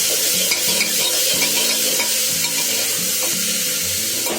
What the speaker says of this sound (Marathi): हे वाळ आता मी टमाटा आणि कांदा त्याच्यामध्ये टाकलेले आणि त्याला ढवळून घेते